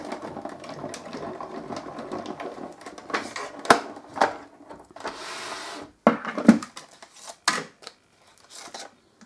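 Die cutting and embossing machine cranking card inside an embossing folder between two clean plates, a steady mechanical rolling and grinding with clicks and thumps, close and moderately loud.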